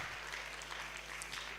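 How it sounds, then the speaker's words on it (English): Audience clapping for a winning youth team at a leadership debate and conference, steady dense applause filling the room for a short stretch without speech. "Let's clap for them."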